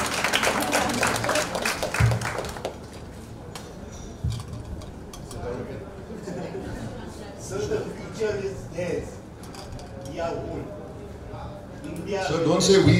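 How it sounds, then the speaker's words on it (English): Audience applause at a book launch, a burst of dense clapping from a crowd that fades within a few seconds into murmuring voices and talk, with cheering rising again at the end. "Please give this man a round of applause."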